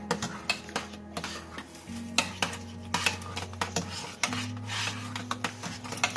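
Cream pie filling is stirred in a pot, a spoon scraping and tapping the metal in an irregular rhythm, quiet and close with a low hum behind.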